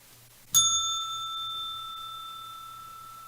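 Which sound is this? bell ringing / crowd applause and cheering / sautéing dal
bell ringing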